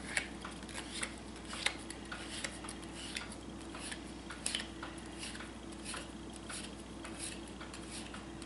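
Soft, quiet rustling and light flicking of playing cards being handled, with small irregular clicks over a faint background hum.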